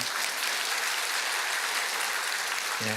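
Church congregation clapping steadily during a Sunday service, a dense continuous patter filling the whole stretch, with no talking.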